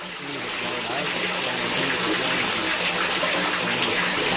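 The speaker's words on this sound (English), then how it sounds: "It's running to the drain, and the drain's just moving the water." Rainwater running through a yard into a French drain in clay soil, a continuous rushing gush of flowing water that swells in the first second and then holds steady and close.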